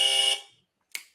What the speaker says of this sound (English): Just barely beating Bill to the buzzer there